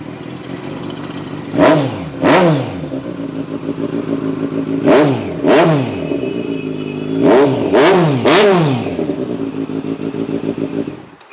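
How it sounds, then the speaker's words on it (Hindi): A Kawasaki ZX10R BS6 sport bike from 2019 fitted with an aftermarket exhaust idles loudly up close, then is revved in sharp blips, mostly in pairs, each climbing and falling back to a rumbling idle. "आपको इसकी आवाज़ सुना देता हूँ मैं एग्जॉस्ट की पहले"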